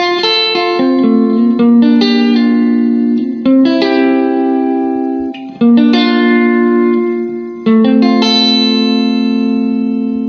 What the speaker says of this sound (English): Now let's set our reverb to a whole and listen